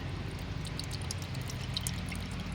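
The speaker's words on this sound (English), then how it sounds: "You take this and you pour it in your gas tank." Seafoam fuel additive poured through a funnel into a truck's gas tank, a steady close liquid trickle and glug running continuously without speech.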